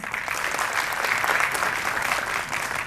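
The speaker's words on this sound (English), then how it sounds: "One more round of applause, please." Sustained applause from an audience at an award ceremony, steady and dense throughout, with no speech over it.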